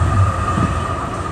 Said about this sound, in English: There comes a tram right in front of me.